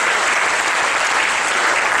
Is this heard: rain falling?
no